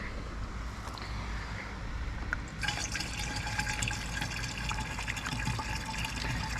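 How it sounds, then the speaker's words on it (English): Liquid pours steadily into a garden sprayer, a continuous splashing fill that grows brighter and fuller partway through, fairly close and moderately quiet with no talking. "So we'll get the vinegar put in."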